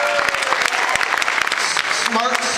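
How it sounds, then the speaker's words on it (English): An audience at a cystic fibrosis foundation event breaks into applause, sharp claps mixed with crowd noise while a voice carries on over it. "That's big applause"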